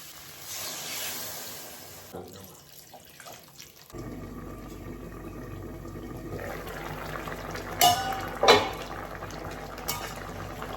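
Water is poured into a fish curry with fried vegetables in a hot pan: a quiet sizzle first, then a rushing pour that turns into bubbling, with a couple of sharper clatters toward the end.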